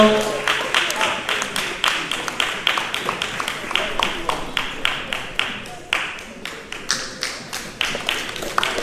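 Audience at an African young leaders awards ceremony applauding as an awardee is called to the stage, steady crowd clapping with a few sharp, close handclaps cutting through rhythmically, loud and sustained throughout.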